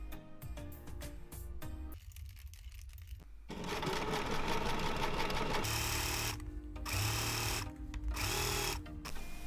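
A sewing machine stitches a seam on a one-piece cardigan, close by. It runs in a fast mechanical chatter with brief stops and restarts, with no voices.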